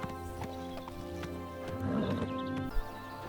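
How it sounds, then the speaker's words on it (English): A horse in the video game Oblivion Remastered, with soft clip-clopping hooves and a faint whinny under a quiet musical game background, low in level. "And I had my horse."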